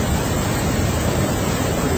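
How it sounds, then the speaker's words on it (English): Niagara Falls in the state park pours down in a dense, steady roar of rushing water that stays even and close throughout. "The water comes down and it's flowing pretty nice over here."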